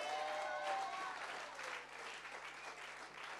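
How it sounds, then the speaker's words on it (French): A church congregation breaks into applause, a faint, steady wash of clapping hands that carries on throughout. "Est-ce qu'on peut l'acclamer avec amour?"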